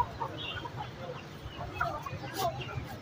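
Hens at a bird market give soft, scattered clucks against a busy background murmur, heard at moderate distance along with some talking.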